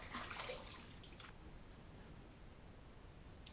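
Water rinsing after a shave, a faint splash and trickle at the start fading into quiet room noise, with a small tap near the end.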